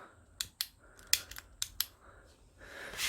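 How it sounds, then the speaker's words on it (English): Several crisp mechanical clicks from a 10-speed trigger shifter on a trike, sharp and close in an irregular sequence of about six to eight clicks, followed by a brief rising rustle. "I've got a 10-speed trigger shifter. Clicky click click click like that."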